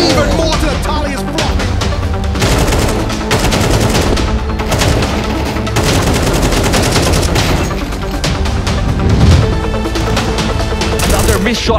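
AK rifle gunfire from Counter-Strike 2 during a major esports tournament: loud, dense rapid-fire bursts that continue almost without a break.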